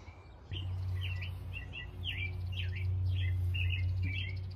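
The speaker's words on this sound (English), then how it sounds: "The birds are so loud." Birds chirp loudly and repeatedly in quick bright bursts, over a steady low rumbling hum.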